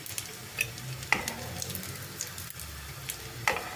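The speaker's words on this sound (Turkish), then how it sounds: "Kızart köfteleri şöyle alalım." Köfte meatballs fry in a pan with a steady sizzle, punctuated by several sharp clinks and scrapes as they are turned and lifted.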